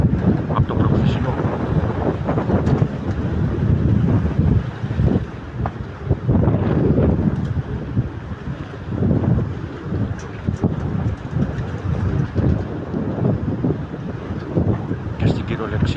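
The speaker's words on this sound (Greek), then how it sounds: "είναι υπερβολικός ο αέρας. Είναι πολύ πιο δυνατός από το προχθεσινό." Very strong wind roars and buffets the microphone in heavy gusts, with faint voices under the rumbling.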